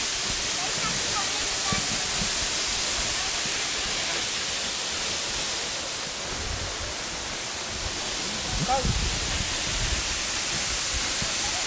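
Broad, steady roar of the Pa Sỹ waterfall in Vietnam's Central Highlands, a loud continuous wash of falling water filling the scene throughout with no break.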